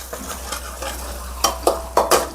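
Cashew and melon seed paste frying in a pan while a spoon stirs it, with soft sizzling throughout and several sharp scraping strokes against the pan toward the end.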